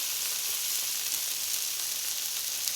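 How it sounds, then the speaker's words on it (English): Food sears in a hot pan of oil with a steady, close, dense sizzle and crackle, vegan chik'n for fajita tacos, heard alone without talk. "I'm just adding just a little bit more oil so it can get that color sear"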